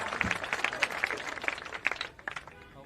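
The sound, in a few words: applause at a rally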